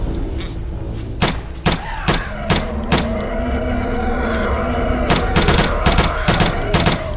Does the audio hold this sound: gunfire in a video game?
yes